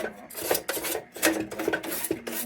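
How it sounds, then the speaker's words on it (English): A mild bench grinder cleaning up a very thin steel lantern, a rough, scratchy rasping in short repeated strokes, fairly close and steady, with no talking. "I'm gonna go over to the bench grinder and clean this up"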